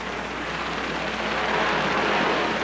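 A helicopter lifts off nearby with its rotor flapping, making a steady, loud, broadband roar that holds through the whole moment without a break, with no voices heard over it.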